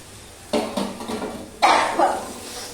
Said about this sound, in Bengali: এই ভাজা পটলগুলো এর মধ্যে দিয়ে দেবো।